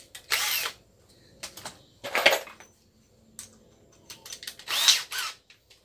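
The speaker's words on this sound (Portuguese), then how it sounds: "Aí nós vamos furar, deixa eu pegar uma broquinha aqui." A power drill with a small bit boring through a strip of tire rubber over a wooden block, three short loud whirring bursts separated by quiet handling clicks, close and without talk.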